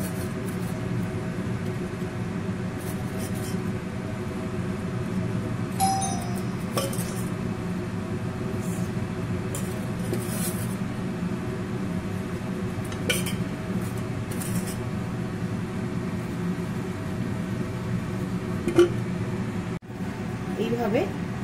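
Occasional light clinks of plates and dishes as fried kheer-filled sweet singaras are arranged on a plate, soft and sparse over a steady room hum, with a person talking throughout.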